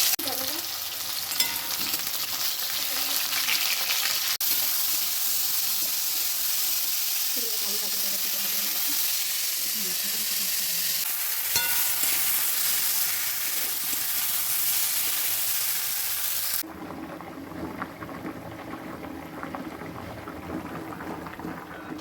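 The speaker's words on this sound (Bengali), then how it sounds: "এবার মাছটা ভেজে ফুলকপি দিয়ে আলু দিয়ে ঝুলে হবে" Fish fries in a pan with a loud, continuous sizzle and spatter, close up, with occasional clinks of stirring and faint voices beneath.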